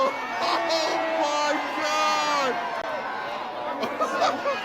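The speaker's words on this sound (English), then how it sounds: "Why are they cheering?" A crowd cheers, whoops and yells together, with loud sustained shouts rising and falling and chatter mixed in.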